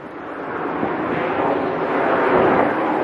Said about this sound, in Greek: σήμερα είναι το θέμα του ότι φυσάει και είναι χειρότερα τα πράγματα αν φυσάει